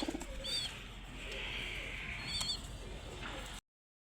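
Kaldom pigeons coo softly in a loft, a few low throaty coos over a steady background hum, moderately close.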